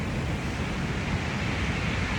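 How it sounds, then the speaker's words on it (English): Ocean waves and wind make a steady broadband rush at a coastline, fairly faint and continuous with buffeting wind on the microphone, no voices. "The waves are already up high."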